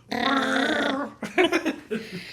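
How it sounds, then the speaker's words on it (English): A Chewbacca roar from Star Wars, built from real animal sounds: one long, loud, sustained growling howl, then a short burst of choppy, gruffer grunts and moans. No one talks over it. "Chewbacca was made up of several real animal sounds"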